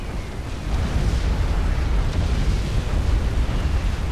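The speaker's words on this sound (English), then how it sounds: "Now, the artillery should be aiming at the ACU." Artillery shells pound an ACU in the strategy game Supreme Commander 2, a steady, heavy rumble of blasts that holds loud and continuous after a quieter start.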